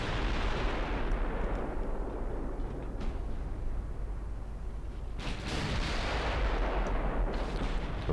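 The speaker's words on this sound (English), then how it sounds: "Torpedo detonation." Heavy torpedo detonations in the naval warfare game Ultimate Admiral Dreadnoughts, a loud, sustained booming roar with a fresh thunderous burst about five seconds in, no voices.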